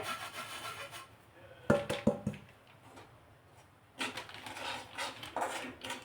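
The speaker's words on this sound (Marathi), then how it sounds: "तूप मेल्ट झालं यामध्ये हे बेसन पीठ टाकायचं आणि भाजून घ्यायचं आहे" Gram flour is stirred and roasted in melted ghee in a pan, with scraping, rubbing spoon strokes in uneven bursts, some louder knocks against the pan, and quieter pauses between.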